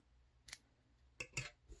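Scissors snip crochet yarn in a quiet room, giving a few faint, crisp cuts spaced irregularly over about two seconds.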